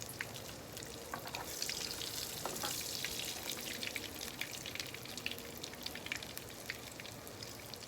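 Minced-meat chapli kebabs fry in oil, a dense crackling sizzle with popping spatters, steady and close, with no talking.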